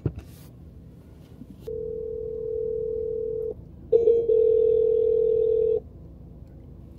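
Ringback tone of an unanswered phone call, two long steady electronic rings separated by a short pause, loud and clear with no one talking.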